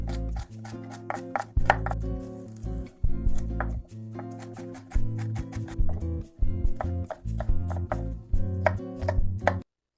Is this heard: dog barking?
no